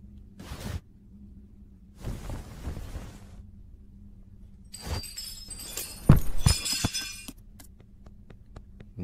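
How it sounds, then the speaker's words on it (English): Glass shattering in a house during an animated Christmas horror story, a sharp crash with scattered tinkling shards around the middle of the clip, preceded by muffled thumps and followed by lingering clinks. "Nobody in the house hear all that glass?"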